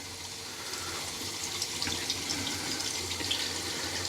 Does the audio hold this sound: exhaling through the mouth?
no